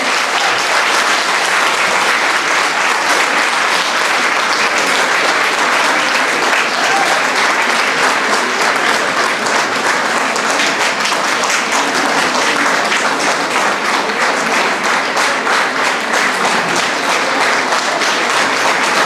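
Sustained audience applause greets a teacher's Management Commendation Award at a school awards ceremony on the Vengambakkam campus, a loud, even roar of many hands clapping that carries on without a break for nearly twenty seconds.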